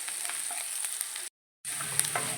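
Chopped green chilies and ginger sizzle steadily in a hot pan, nearby and even. The sound drops out to silence briefly partway through, then the frying resumes.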